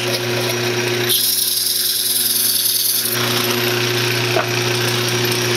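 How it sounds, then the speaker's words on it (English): A wood lathe spins a turned wooden base while it is sanded through successive grits, giving a loud, steady motor hum with a brighter grinding hiss for a couple of seconds, close up and without speech. "turn your lathe speed back down, and just go ahead and sand it up, like run through your grits"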